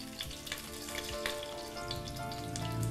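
Cumin and black pepper fry in ghee in a pressure cooker pan, giving a dense, steady, close sizzle with crackling pops throughout and no talk.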